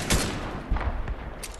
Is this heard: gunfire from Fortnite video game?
yes